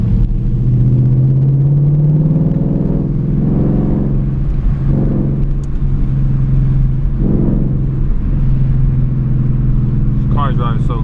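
A 2020 Ford Mustang 5.0 V8 with its muffler deleted drives at night, its deep steady exhaust rumble rising and falling with throttle through gear changes, loud and close from inside the cabin.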